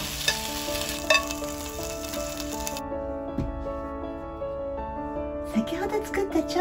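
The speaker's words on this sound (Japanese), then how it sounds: "今度はお鍋に移して煮込んでいきますよ。" Chicken drumettes being moved into a cooking pot in a home kitchen, making steady close scraping, stirring and sizzling noises with a few sharper clinks of utensil against the pot.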